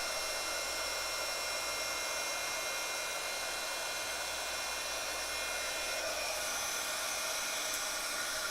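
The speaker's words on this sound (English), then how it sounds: "heat tool" Steady hot-air hiss and whine from a craft heat tool running continuously and close, a constant bright rushing tone with no pauses.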